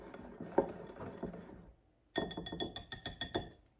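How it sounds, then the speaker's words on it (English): A whisk stirs flour in a bowl for plum bread batter, making light rhythmic clinks and taps in two bursts separated by a short pause, close and fairly quiet. "I'm going to use a whisk to mix this together and kind of break up any of those clumps"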